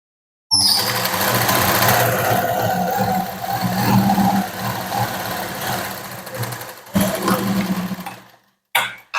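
A sewing machine runs steadily while stitching a katori blouse, a loud continuous mechanical whir that stops briefly near the end and then restarts.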